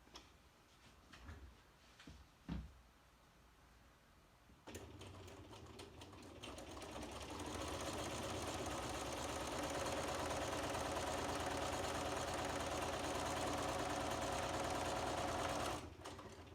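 A sewing machine chain-stitches quilt squares, starting after a few soft handling clicks and running as a steady, fast mechanical whir for about eleven seconds before stopping.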